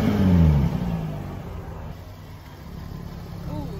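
A 2016 Jaguar F-Type S convertible with a 3.0-litre supercharged V6 gives a brief low engine swell as it moves off, then drops to a quieter steady hum. A faint voice is heard near the end.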